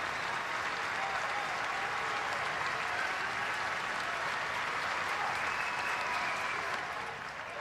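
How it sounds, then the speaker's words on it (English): Crowd at a college baseball game between Rice and LSU, a dense, steady roar of clapping and cheering from the stands, sustained and even at a moderate distance. "Crowd getting into it a little bit."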